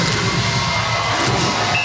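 Arena crowd at the Stan Sheriff Center rising and cheering during a Hawaii versus USC men's volleyball match, a dense, sustained roar of many voices filling the hall.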